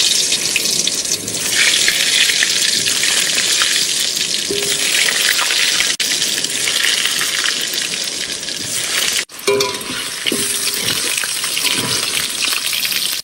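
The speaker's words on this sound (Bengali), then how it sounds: "তেল গরম হয়ে গেছে, এবার আলু দিয়ে দেবো।" Potatoes fry in hot oil in a pan on an Indian fishing boat, giving a steady, dense sizzle that runs the whole time, close and fairly loud, with no talking.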